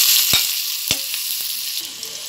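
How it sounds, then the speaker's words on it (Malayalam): Onions frying in hot ghee in a pan for a Kerala beef curry, with a steady broadband sizzle and a few sharp crackles and pops near the start, close and fairly loud with no talking. "ഇനി ഇതിലേക്ക് കുറച്ച് ഉള്ളിയിട്ട് നമുക്ക് ഫ്രൈ ചെയ്തെടുക്കാം"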